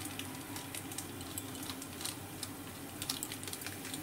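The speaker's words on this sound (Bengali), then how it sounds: "এখানে জলটা যে দিয়েছিলাম সবজির মধ্যে সেটা ফুটে গেছে" Water with vegetables boiling in a pot, a dense, continuous bubbling hiss with small crackling pops scattered throughout, close and steady with no voices.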